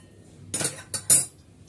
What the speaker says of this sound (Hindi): अभी हमने यह कढ़ाई रख दी है